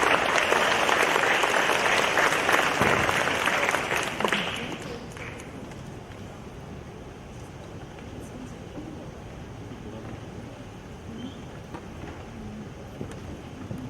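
Audience applause at a high school admission briefing in an auditorium, loud clapping for about four seconds that fades into quiet room murmur and scattered small noises.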